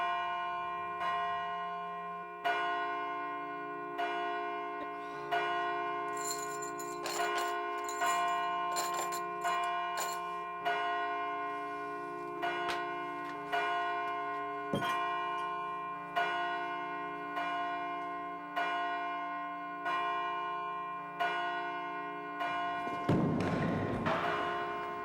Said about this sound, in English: Let the church bells ring so that they may find their way to us.